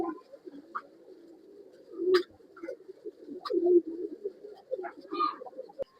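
Male pilanga pigeons at a pigeon sale in Bangalore coo with low, rolling calls that run steadily through the clip, rising in a few louder bursts, with faint chirps and clicks scattered above.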